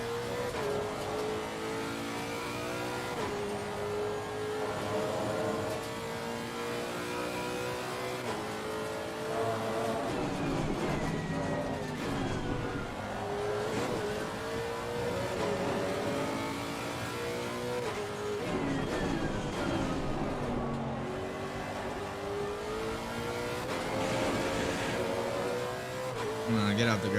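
A Lexus RC F race car in Assetto Corsa Competizione laps Imola, its engine steadily revving up and down through gear changes with shifting pitch, loud and continuous while someone talks over it.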